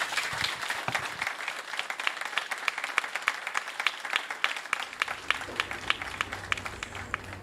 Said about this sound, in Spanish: Invito a hacer un fuerte aplauso para Graciela Barrera.